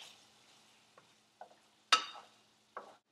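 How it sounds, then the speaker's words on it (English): Garlic in hot oil gives a faint sizzle in a pan, and a few short scrapes and one sharper clatter of stirring break through the quiet. "I stirred in the garlic, and now I'm going to continue to shake the pan until we can really smell the garlic"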